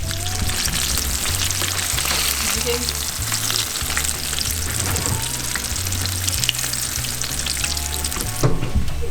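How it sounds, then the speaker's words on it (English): Steady, loud sizzling and crackling of raccoon meat frying in hot grease, continuous throughout with no talking. "We're about to drop them in and fry it like I would fry a piece of chicken"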